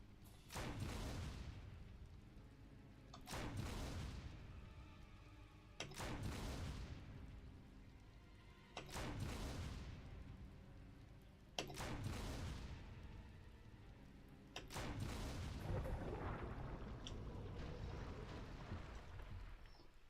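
A grenade launcher fires in the Resident Evil HD Remaster video game. Six heavy booming blasts come roughly every three seconds, and each one rings out into a long decaying tail.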